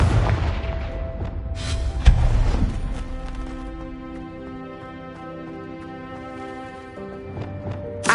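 A Confringo explosive spell blast in Hogwarts Legacy, a loud booming impact up front that decays into a long ringing, shimmering tail with a second thump partway through.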